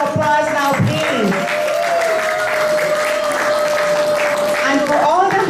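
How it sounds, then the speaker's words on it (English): An audience at a UN high-level side event claps in sustained applause, a dense continuous wash with an amplified voice speaking over it. "Give yourself a round of applause now, please."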